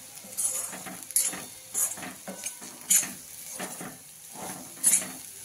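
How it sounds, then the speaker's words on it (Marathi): A spoon scrapes and knocks around a pan of carrot stir-fry with curry leaves, a series of irregular stirring strokes with metallic clinks, close and fairly loud over a faint background sizzle. "आपण चांगलं हलवून घेऊ आता। याला आपण टाकू कढीपत्ता"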